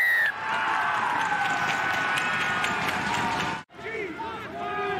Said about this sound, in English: Wait for this cheer, everyone.